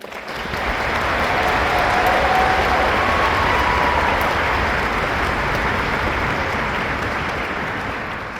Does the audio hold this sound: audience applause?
yes